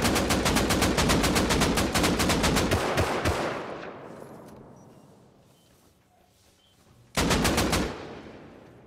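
An automated turret in the survival game Rust opens fire on players, a loud rapid stream of shots for about three seconds that decays away, then a second burst starts abruptly.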